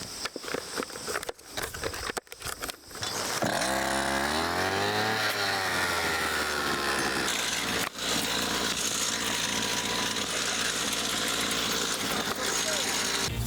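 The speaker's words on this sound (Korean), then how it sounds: "예초기에 시동을 걸고 본격적으로 풀대기를 시작하는" A two-stroke brush cutter engine starts up in a grassy mountain field for cutting grass, rising in pitch after a few pulls and settling into a loud, steady drone close by.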